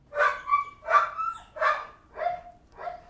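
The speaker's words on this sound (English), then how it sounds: "So we started out with the dog bark." Dog bark sound-effect sample: five clean, close barks in an even rhythm, the last two slightly softer, against a quiet background.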